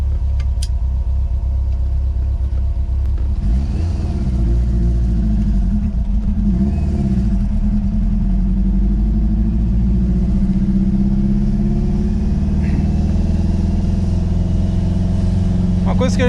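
An Emme Lotus 422T, a 1990s turbocharged car, has its engine rumble and build steadily through a long acceleration, with a deep, continuous drone that stays loud and close from start to finish.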